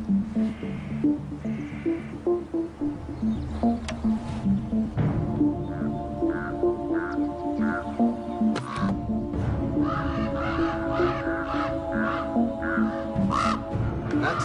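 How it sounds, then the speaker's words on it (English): Common ravens near their nest in Yellowstone give repeated harsh, agitated caws, loud and close in irregular bursts over a steady low hum, with someone talking at times. "you can hear Mama and Daddy Raven are not very happy"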